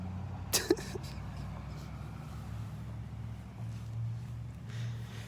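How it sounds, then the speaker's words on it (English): A loud blue truck drives past close by, its engine a heavy, steady low rumble that swells and holds for several seconds, with a couple of brief sharp knocks near the start. "The loud engine on the blue truck."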